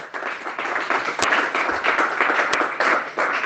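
A church congregation applauding during a sermon: dense, rapid clapping from many hands, moderately loud and continuous, with a few sharper claps standing out and voices faintly mixed in.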